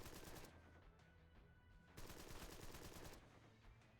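Rapid gunshots in the Empire of Sin video game come in two short volleys separated by a quieter gap, faint and distant with no voices.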